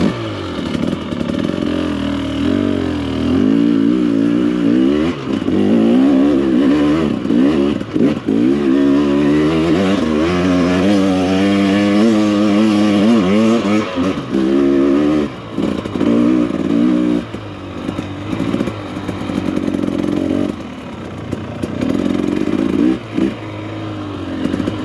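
A dirt bike engine revs and labors continuously on a trail ride through a snowstorm, close and loud, with throttle swells and dips throughout and no talking.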